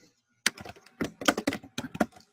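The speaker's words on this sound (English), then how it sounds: "what are you typing?" Rapid clacking of keyboard keys, a burst of uneven taps close up, typed quickly with brief pauses.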